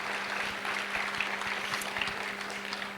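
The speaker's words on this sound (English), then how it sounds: "Let's give a round of applause to the amazing TED team" A TEDx audience claps steadily, a dense wash of applause that holds at an even level throughout.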